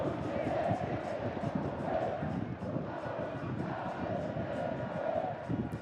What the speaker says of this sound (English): Great crowd on hand here at Estadio Nacional in Tegucigalpa.